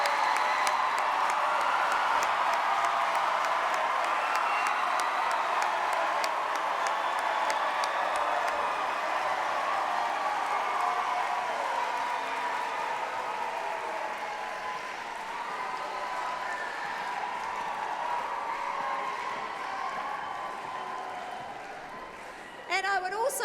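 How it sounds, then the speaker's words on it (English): Broad applause from a gala audience at a choir event as choir members gather on stage, sustained and gradually thinning, with faint talk and music beneath. "give them a round of applause."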